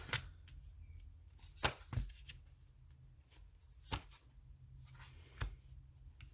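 Tarot cards are shuffled and pulled by hand, giving a series of soft, close slaps and riffling snaps scattered irregularly over a quiet room, with no talking.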